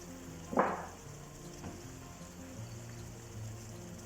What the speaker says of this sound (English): I put the stock in it.